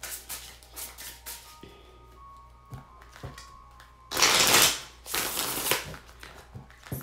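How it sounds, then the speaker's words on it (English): Tarot cards being shuffled by hand, quiet soft riffling with a couple of louder, fuller bursts of flapping card noise near the middle, set against a quiet indoor room with no talk. "Let's go ahead and pull some tarot cards."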